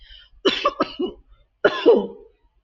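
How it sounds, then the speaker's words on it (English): A man coughs into a handkerchief in two rough clusters, several quick hacking coughs, then a pause and a second throatier bout, close and loud against silence. "coughed several times into his handkerchief before continuing"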